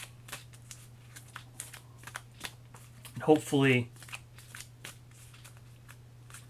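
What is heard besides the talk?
shuffling a deck of game cards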